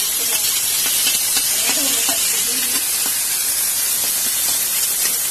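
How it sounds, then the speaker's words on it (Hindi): Onion and curry leaves fry in a pan with a continuous bright sizzle and hiss, close and steady, with a few faint clinks and a single brief spoken word underneath. "करके ये थोड़ा सा फ्राई हो रहा है"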